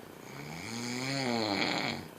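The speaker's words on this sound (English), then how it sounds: "I didn't realize you snored that loud." A person snores loudly in one long, rising and falling breath with a deep rattling drone, close and alone with no talk.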